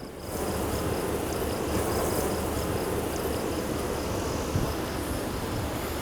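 Honeybees at an open hive, with a frame lifted out during a hive inspection, make a steady, dense buzzing swarm drone that runs unbroken and fairly close throughout, with a faint high whine above it.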